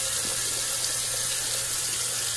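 Water from a tap pours steadily into a bathroom sink, a continuous loud hissing rush with no break, filling the basin for a straight-razor shave.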